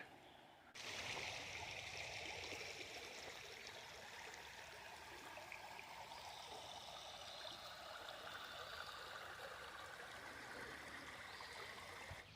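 Steady, continuous rush of creek water flowing over rocks, close by and fairly loud, with no talking.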